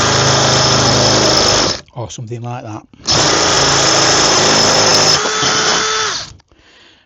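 A spear drill bit grinds through a ceramic cooking pot in two long, loud, high-pitched bursts split by a short pause, with someone speaking briefly in the gap.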